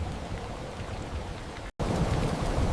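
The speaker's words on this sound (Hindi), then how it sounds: "अचानक आसमान जैसे फट पड़ा और पूरे गांव पर तेज बारिश टूट पड़ी" Heavy cartoon rain pours down over a village as a steady, dense hiss of downpour that cuts out for a split second before resuming just as loud.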